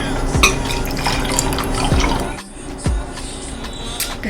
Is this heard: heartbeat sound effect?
no